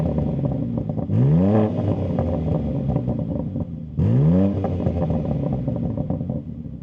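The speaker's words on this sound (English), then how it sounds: "And that comes obviously with the exhaust as well. So it sounds lovely." A 610 bhp BMW M3 G81 with an upgraded exhaust revs hard twice, each blip rising sharply then settling back to a steady idle, loud and close with no talk.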